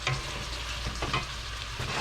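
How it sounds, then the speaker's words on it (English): Steady broadband bubbling and sizzling from cabbage simmering in a pot on the stove, continuous and moderately close, with no talking. "This is where we're going to turn everything down and stew and simmer."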